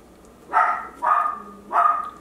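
Three drawn-out puppy yelps in a row, evenly spaced and nearby, with quiet gaps between them.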